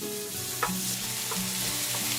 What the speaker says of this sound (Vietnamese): Mình xào lên.